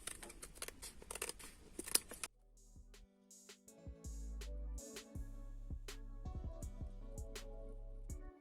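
Scissors snip through paper for a Christmas tree decoration, a run of crisp, close cuts followed by slower, separate snips with quiet gaps between them.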